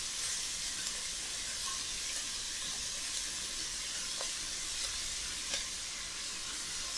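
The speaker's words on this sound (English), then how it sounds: "It's nicely sizzling." Onions sizzle steadily in about two tablespoons of olive oil in a hot pan, a continuous close frying hiss with occasional faint pops and no talking.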